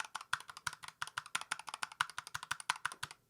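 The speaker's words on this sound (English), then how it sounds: "This right here is my old keyboard." An old, loud computer keyboard typed on in a steady run of sharp, clacky keystrokes, close and alone with no talk, about two dozen presses over a few seconds.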